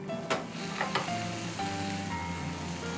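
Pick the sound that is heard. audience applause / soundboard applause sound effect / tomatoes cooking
tomatoes cooking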